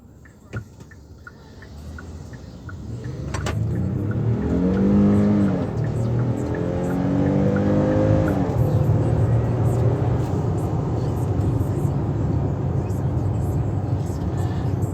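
A 2021 Hyundai Palisade pulls away and accelerates, its engine note rising through the gears and then settling into a steady cruising drone; a person talks over it.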